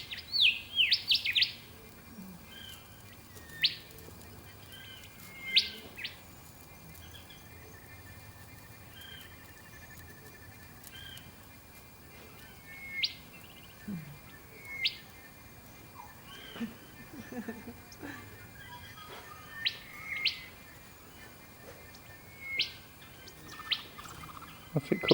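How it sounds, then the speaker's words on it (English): A parrot calling outdoors, with short, sharp cries scattered across a long stretch over steady insect chirring and other birdsong, mostly at a moderate distance. "Some kind of parrot."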